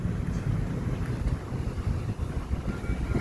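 Strong outdoor wind buffets the microphone on an open walking area, a continuous loud low roar and rumble with gusty fluctuations and no voices.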